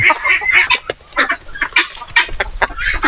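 Several native chickens cluck and squawk in quick bursts, loud and close, some calls overlapping in an uneven rhythm.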